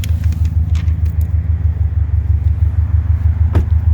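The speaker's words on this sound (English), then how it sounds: "Vehicle will stay running." A 2020 Subaru WRX STI with a manual transmission idles after a remote start, giving a steady, close, low engine rumble with a slight pulsing throb and no voices.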